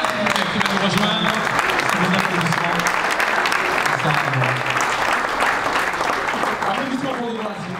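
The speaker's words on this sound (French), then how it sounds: "Applaudissons Déborah, qui va nous rejoindre." An audience applauds steadily for Déborah at an association's anniversary ceremony, a dense, loud wash of clapping that holds for several seconds, with voices mixed faintly into the crowd.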